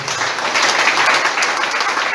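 A church congregation claps in praise to the Lord during a Spanish-language sermon, a steady, dense wash of many hands applauding close and loud throughout, with no voices above it.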